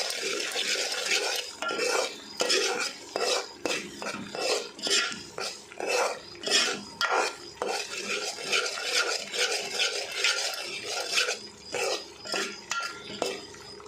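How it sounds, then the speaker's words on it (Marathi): Mutton masala paste with homemade chili powder and coriander powder is stirred and sautéed in a pan, a spoon scraping and clinking against metal in a steady repeated rhythm over a soft sizzle, close and moderately loud with no talking. "मस्त तेल सुटेपर्यंत परतून घ्यायचं आहे."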